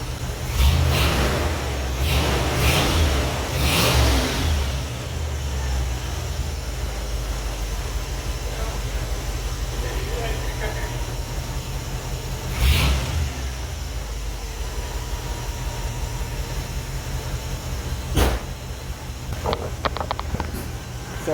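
Car engine accelerating and revving on a first drive after a belt repair, a steady loud low drone throughout with brief surges near the start and around the middle, no talk.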